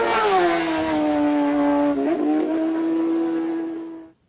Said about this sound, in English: They're racing on public roads, on super bikes with more than 200 brake horsepower